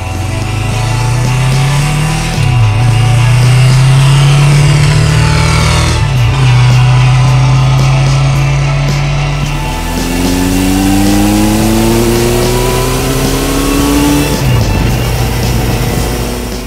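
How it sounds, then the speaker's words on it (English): A Honda CB750 superbike engine pulls hard while riding, loud and close, its note climbing through the revs in several rising sweeps with brief dips at gear changes, no voices over it. "when you twist that throttle, you can feel that it's a proper superbike"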